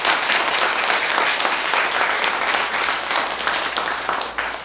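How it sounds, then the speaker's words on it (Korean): A church audience applauding during a lecture, dense sustained clapping from many people that stays loud for several seconds before tapering slightly. "우리 예수님께 박수 칩시다"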